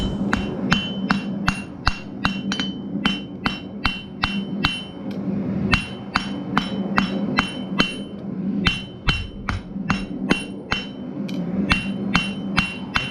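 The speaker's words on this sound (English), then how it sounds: "then hammer down and draw up the other side" A blacksmith hammers hot metal while forging a decorative heart-shaped hook, with loud, close, ringing strikes falling in a steady, brisk rhythm of about two blows per second and brief pauses between runs.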